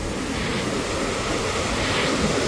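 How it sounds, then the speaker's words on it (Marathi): Rushing water overflowing from the brimming Vandri Lake, a continuous loud broadband roar with steady churning and no pauses, heard close by with no voices. "पाण्याला प्रेशर पाहू शकताय तुम्ही, किती जोरदार आहे तो"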